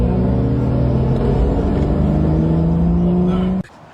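A BMW M2 engine struggling with its fuel runs loud and close with a steady droning rumble and rising tonal whine for several seconds, then cuts off abruptly near the end.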